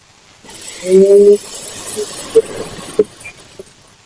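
Sewing machine stitching a blouse lining with a small stitch length, a brief whirring run followed by a few short mechanical clicks, close by and fairly clear over low background noise.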